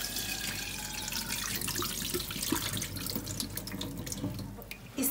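Soaking water pours off wheat grains into a sink as they are drained for sprouting, a continuous splashing trickle with scattered drips, close and fairly loud.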